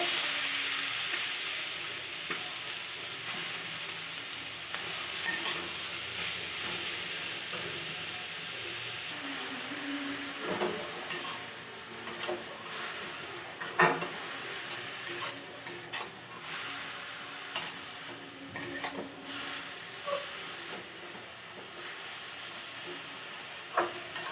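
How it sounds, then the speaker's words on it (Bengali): Grated carrots frying in ghee in a kadai for carrot laddu, a steady close hiss and sizzle with occasional scraping and stirring knocks, no speech over it. "গাজরটা ভালো করে নেড়ে একটু জলটা শুকিয়ে নেব।"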